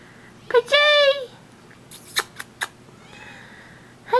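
A domestic cat lets out a clear, drawn-out meow indoors, followed by a few short squeaky chirps and a fainter later mew, with a person's voice calling softly around it.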